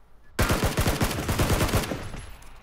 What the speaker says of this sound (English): Pull back and shoot him in the head.